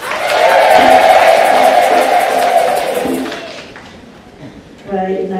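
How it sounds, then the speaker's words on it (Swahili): A crowd applauds the president at a 50th jubilee celebration of WAWATA in Tanzania, loud clapping and cheering that swells and then fades, followed by a speaking voice. "Naomba tumpigie makofi"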